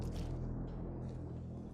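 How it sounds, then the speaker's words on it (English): A supply plane drones overhead during a 7 Days To Die game session, producing a continuous low, heavy engine rumble that stays steady and fairly loud for under two seconds with no talk over it. "So that is the sound of a plane going overhead and dropping some supplies."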